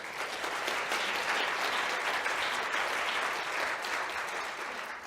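Conference audience applauding a speaker, a dense, even patter of many hands clapping steadily for several seconds with no talk over it.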